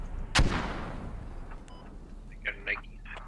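A single mortar blast in the Squad video game, loud and sharp, with a long rumbling tail fading over a couple of seconds. A few faint chirps and blips follow.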